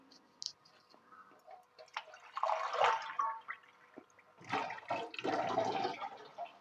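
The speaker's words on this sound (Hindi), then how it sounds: "पानी इसमें मैं 1 कप और डालूंगी" A cup of water poured into a cooking pot during Indian masala preparation, giving two loud splashing, gushing bursts separated by a short pause, close to the listener.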